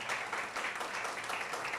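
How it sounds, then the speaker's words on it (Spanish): A church congregation applauds during a Spanish-language service, a steady wash of many hands clapping together, fairly loud and continuous throughout. "Dele un fuerte aplauso"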